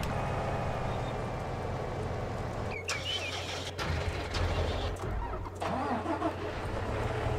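A truck engine cranks and starts inside a farming video game, then settles into a steady mid-pitched idle rumble that runs loud and continuous throughout, with no talking over it.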